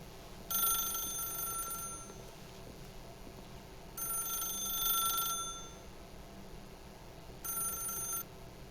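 A telephone rings in The Stanley Parable video game, three bright electronic ringing bursts spaced a few seconds apart over a faint low hum, with no talking.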